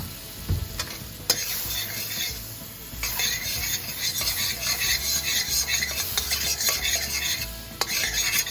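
Milkfish sizzles and crackles steadily in a pan of butter and oil, with intermittent stirring and utensil scrapes against the pan, no talking.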